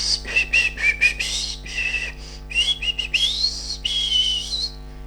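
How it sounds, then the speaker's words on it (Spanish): A person whistles a lively, wavering tune at moderate volume, steady phrases carrying on for several seconds without speech. "Silbé con más energía."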